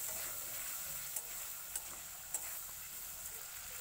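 Potatoes and ground spice paste sauté in a pan with a soft, steady sizzle close by, broken by a few light scraping taps of a spoon stirring, all without speech.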